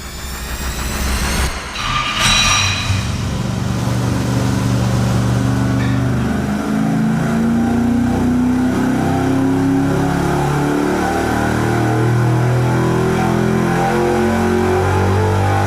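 A stock 325 cubic inch engine runs a loud, sustained dyno pull with no voices, revving up steadily and holding a strong, rising roar for about fifteen seconds after a short burst at the start.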